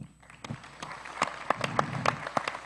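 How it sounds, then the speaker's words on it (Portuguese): An audience at a live interview event starts clapping, sparse at first and then building into scattered, moderately close applause that is still fairly light and thin as it ends. "Por favor, Juliano, palmas para todo mundo."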